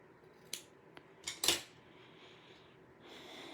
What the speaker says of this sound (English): So what I'm going to do is cut the ends of this. I always like to cut them on an angle.